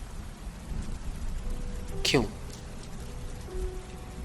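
Constant rain patters in the background while someone speaks briefly, the downpour a steady hiss under his voice.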